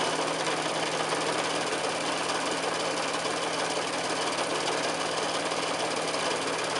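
A sewing machine stitches the binding along the edge of a quilted oven glove, running as a steady, continuous mechanical whir with a low hum, close by and without talk.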